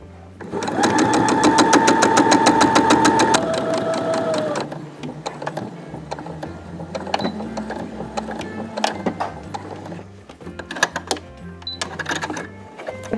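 A sewing machine stitching a seam around a fabric face mask, first a fast, loud continuous whirring run, then shorter bursts and stops with clicks and fabric handling as the stitching continues.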